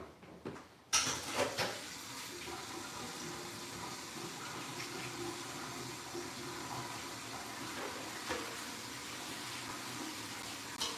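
Steady rush of tap water running into a kitchen sink while something is rinsed under it, beginning with a sudden splash and then continuing evenly and fairly softly, with a few small clinks.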